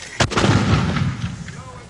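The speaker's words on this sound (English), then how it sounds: "Then opening up with 81mm mortars, which were set up in a matter of minutes in the town square." An 81mm mortar set up in a town square fires a sharp, loud report followed by a rolling, booming echo that decays over the next second and a half.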